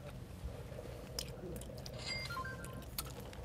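Someone chews horse mackerel, with soft wet chewing and a few crisp crunchy bites heard close up over a low background rumble.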